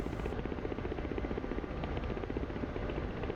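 Steady, loud rotor thrum of a Ka-50 attack helicopter in DCS World, a continuous close drone with a fast pulsing beat and broad engine roar, no voices.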